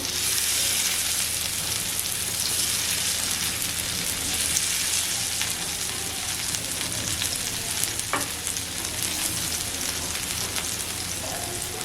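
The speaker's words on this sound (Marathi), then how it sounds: "मच्छी टाकताना कधी हलक्या हाताने टाकायची नंतर तेल उडण्याची आपल्यावर शक्यता असते" Prawns fry in hot oil over a medium gas flame for tandoori prawns, giving a loud, steady, dense sizzle with crackling spatter that continues unbroken throughout, with no talking.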